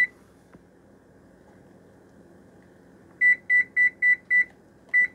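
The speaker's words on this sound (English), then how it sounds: "We'll set the timer." A kitchen oven timer, with no voices, sounds six short, evenly spaced electronic beeps after a few seconds of quiet room tone, loud and close.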